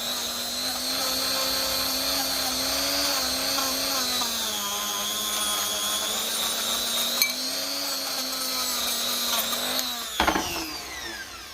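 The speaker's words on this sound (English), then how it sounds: "them wire brushes on the Dremel are great for actually kind of polishing it nearly" A Dremel fitted with a wire brush polishes a Lucas distributor part from a 1950 Ferguson, a steady high-pitched whine that wavers slightly in pitch under load, with brief scraping clicks near the end.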